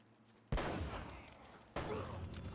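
Gunfire in the video game Uncharted: Drake's Fortune, two loud bursts of shots, the first sustained and the second starting later, with no talk.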